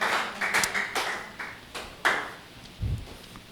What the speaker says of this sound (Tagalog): Palakpak para sa Panginoon.